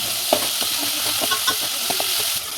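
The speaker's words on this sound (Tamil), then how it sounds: "தக்காளி இப்படி வெட்டி வச்சுருக்கேன் அதை இப்போ இதில் சேர்த்துக்கலாம் இதையும் சேர்த்து நல்லா வதக்கிடுவோம்" Chopped tomato and onion sauté in a pan for a chicken curry, a close bubbling sizzle broken by scraping stirs and soft clinks of the spoon.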